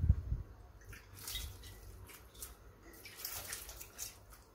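Water drips and trickles off blanched broccoli and shrimp draining for a noodle dish: soft intermittent spatters and splashes at close range, with a brief louder splash at the start.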